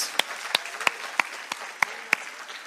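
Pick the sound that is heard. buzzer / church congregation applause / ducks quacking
church congregation applause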